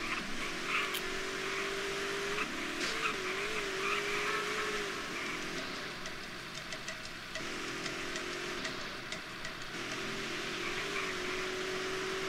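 Cars race in GTA San Andreas, with a continuous engine drone whose pitch rises and falls through gear changes, tire noise and squeals heard up close and throughout.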